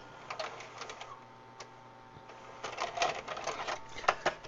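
A Magnavox DVD VHS combo player ejecting a tape, faint mechanical clicks and whirring gear sounds that grow busier toward the end, close and quiet with no talking.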